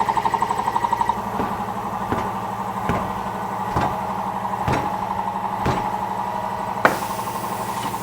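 Rusted tire on a wheel struck with a 12-pound sledgehammer: about six evenly spaced heavy knocks over a steady engine-like hum, followed by one sharper final blow.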